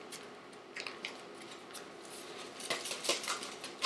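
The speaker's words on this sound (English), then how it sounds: "Snip the ends." Scissors snip open taco seasoning and ranch dressing packets in a kitchen: faint, close crisp cuts, a few scattered and then a quicker cluster near the end.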